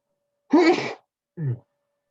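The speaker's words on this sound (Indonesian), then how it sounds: "maaf ya, bersin ya." A single human sneeze, close and fairly loud, with a breathy burst followed by a shorter, softer sound, in an otherwise quiet room during an online sociology lesson.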